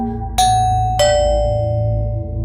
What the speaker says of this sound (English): Who's ringing my bell?